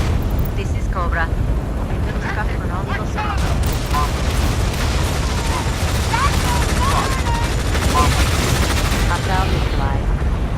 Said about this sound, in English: Big Gun here. Hostiles in range. Opening fire.